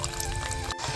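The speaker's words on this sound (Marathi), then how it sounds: "आता ह्या बघा हे चीज पाणी मी भातात टाकीते" Cheese water is poured into cooked rice for home-style dal khichdi, a brief steady splashing pour that stays fairly loud throughout with a momentary dip near the end.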